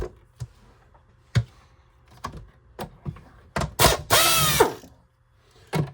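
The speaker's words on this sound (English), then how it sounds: "And then we're going to flip it over, and there's 2 more screws we're going to take out." Screws being removed from a Riccar R25S vacuum cleaner during cord replacement: a series of sharp ratcheting clicks and short mechanical bursts, with a longer grinding run near the end, close and fairly quiet.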